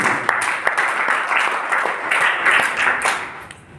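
An audience at a business plan meeting in Jehanabad, India, applauds, a dense patter of many hands clapping at steady volume, then fading slightly at the end.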